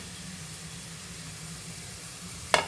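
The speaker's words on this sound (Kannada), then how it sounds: "ಪನ್ನೀರ್ ಕೂಡ ಅದೇ ತುಪ್ಪದಲ್ಲಿ ಫ್ರೈ ಆಗಬೇಕು" Paneer frying in ghee in a pan for a North Indian style pulao, a steady low sizzle throughout, ending in a brief sharp clatter near the end.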